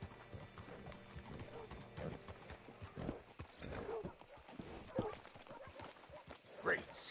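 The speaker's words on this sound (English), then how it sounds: "Hitch your horse up here." A horse in the Red Dead Redemption 2 video game, hooves clip-clopping at a walk with a short whinny near the end, heard alongside game voices and ambient background.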